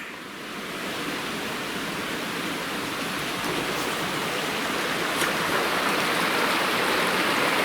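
Steady rushing of a creek flowing nearby in Utah, a continuous broad wash of water that swells slightly and persists without pause or voices.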